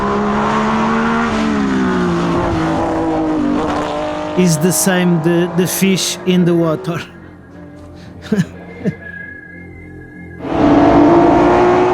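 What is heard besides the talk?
historic Porsche race car racing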